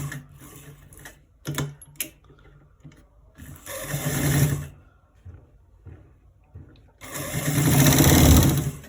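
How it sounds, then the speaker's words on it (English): A sewing machine stitches a trouser double welt back pocket at a quarter-inch seam, running in several bursts with short pauses between, the longest runs loud and close. "So we are stitching it on a 1/4 inch."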